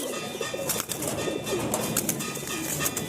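Fulshira Kaldoma pigeons being released, with soft cooing and scattered wing flaps over a dense, steady outdoor background.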